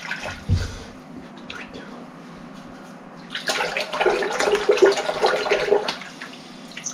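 A cleaned metal part from an ultrasonic cleaning tank is rinsed under running water, a loud rushing splash that builds after a brief thump and continues steadily for several seconds, close by.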